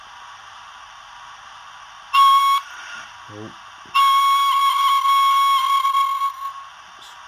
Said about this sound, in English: Function 2 is a 4 burst whistle.